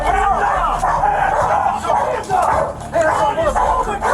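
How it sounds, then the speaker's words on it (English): A police dog named Cole barks at a suspect hidden out of sight, sharp repeated barks close by over noisy background chatter and voices. "The dog begins barking, alerting the cops to the suspect's presence."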